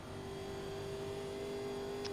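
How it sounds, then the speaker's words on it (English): NASCAR race car engine at Daytona in 1987, a steady droning hum with a constant mid tone, heard as continuous in-car engine noise, no talk. "The engine still sounds good."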